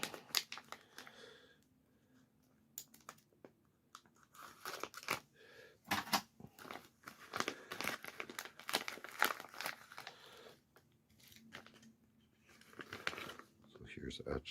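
Plastic packaging for a LUTH-AR teardrop forward assist being pinch-cut open, with close, soft crinkling, snipping and rustling that comes and goes in uneven bursts at low volume.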